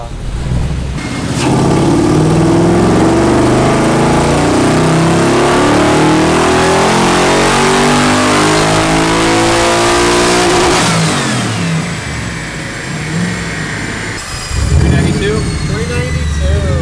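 An LS1 V8 fitted with a big cam and built heads, air filter removed, roars through a long wide-open dyno pull, rising steadily in pitch for about ten seconds before backing off to a lumpy idle as voices follow.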